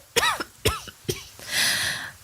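A girl coughs three times in sharp, close bursts about half a second apart, followed by a breathy, hissing exhale.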